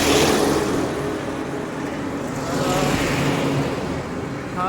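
Traffic on a tarmac road, Wada Road: a steady rush of cars passing nearby, with broad swells of tyre and engine noise that rise and fade over a few seconds, recorded from the roadside during a morning walk.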